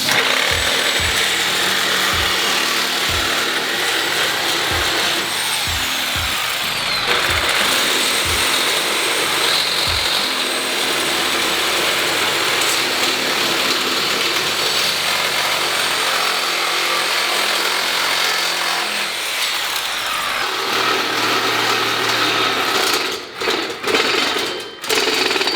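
A power tool cuts through the bottom of a metal kart chassis, a continuous loud grinding whine with a few thumps at the start and rattling knocks near the end.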